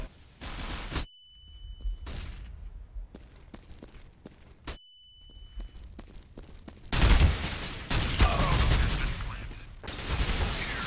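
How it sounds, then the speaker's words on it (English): Gunfire in the competitive shooter CS:GO, with sharp isolated shotgun-style blasts and brief quiet gaps, followed by denser, louder bursts of shooting toward the end. "Shotgun to the face, and it takes 35 damage."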